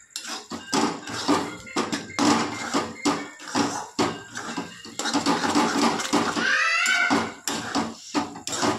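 A cat named Shika meowing repeatedly in a home kitchen, several insistent cries close by, mixed with clinks of pots and utensils.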